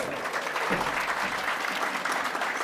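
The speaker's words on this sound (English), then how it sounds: "Parents, please put your hands together for the kids." Parents in a preschool event audience clap steadily for children taking the stage, a dense, even wash of many hands applauding throughout the short stretch.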